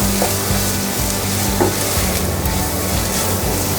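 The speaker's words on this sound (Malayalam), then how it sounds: "എന്നിട്ട് നല്ലോണം ഒന്ന് ഇളക്കി മസാലയൊക്കെ ഒന്ന് പച്ചമണം മാറട്ടെ." Masala for chicken roast sizzles and fries in a pan while being stirred, a steady close crackle with scraping stir strokes throughout and no talking.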